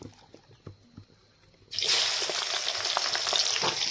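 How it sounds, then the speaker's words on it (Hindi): Onions drop into hot oil in a pan on a wood-fired stove and burst into a loud, steady sizzle and crackle after a quiet stretch with a few light knocks. "तो हम लोग का तेल गर्म हो चुका है, तो अभी देखिए हम लोग प्याज सब डालेंगे।"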